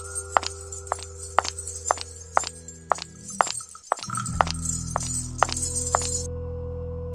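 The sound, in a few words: footsteps following behind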